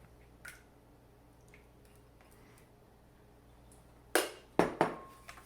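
Parmesan, Gruyere and four extra large eggs go into a food processor: a quiet stretch with a faint tap, then three sharp clacks and plops close together near the end.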